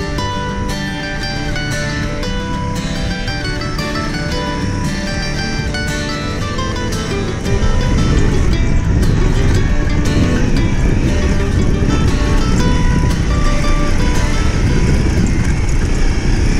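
Two Honda CRF dirt bikes riding off-road along rutted ground, engines droning loud and close throughout, with a rougher, louder surge of engine and wind noise in the second half.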